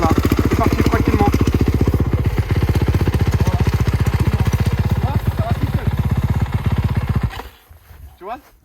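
A motorcycle engine chugs in a loud, close, rapid pulsing rhythm at low revs as a beginner rider pulls away slowly, then fades abruptly near the end.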